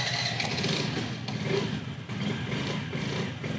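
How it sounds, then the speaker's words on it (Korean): A motorcycle ridden on an Indian road in the morning, with a steady engine drone and wind rumble that holds continuously at moderate level. "아침에 바이크 타니까 쌀쌀하네요"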